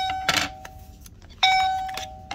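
A video doorbell chime rings twice, a bright electronic tone with a ringing sustain. The two rings are close and separated by about a second, with faint handling noise around them and no talk.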